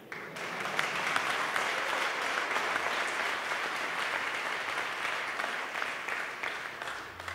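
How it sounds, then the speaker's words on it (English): Conference audience clapping at a JavaScript event, steady sustained applause from a large crowd filling the whole stretch, dense and even before tapering slightly at the end. "you can clap that out."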